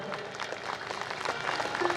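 Crowd at a devotional story gathering applauds, a continuous soft patter of many hands swelling slightly toward the end, with a faint voice mixed in.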